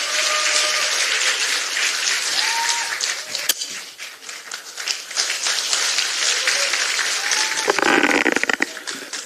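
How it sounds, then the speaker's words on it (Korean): A large crowd at a Korean political party gathering applauds to welcome a speaker, sustained loud clapping with cheering and whistles, easing off midway and then swelling again toward the end. "여러분 큰 박수로 맞이해 주시기 바랍니다."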